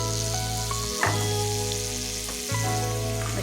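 Onion and celery dropped into hot olive oil in a pan for vegetable soup give a steady sizzle over a low hum, with a couple of soft knocks as pieces go in.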